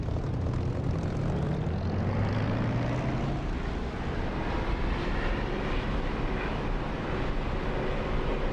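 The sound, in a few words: propeller warplane engine at takeoff, flight-sim video game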